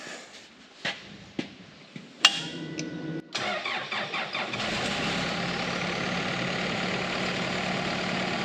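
A small water pump engine is pulled and catches after several sharp attempts, then settles into a steady, loud running drone that fills the rest of the time, with no talking.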